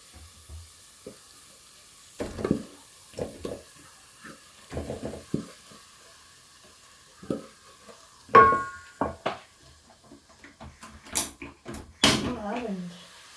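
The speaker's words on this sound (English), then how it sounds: "I mean my leftover meat, my leftover stew in there." Leftover meat and stew fry with rice and vegetables in a pan, giving intermittent sizzles and stirring scrapes between pauses, with someone talking over the cooking.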